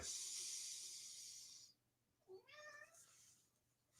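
A cat gives one clear, drawn-out meow, close by and moderately loud, after a stretch of broad hissing noise that fades out first.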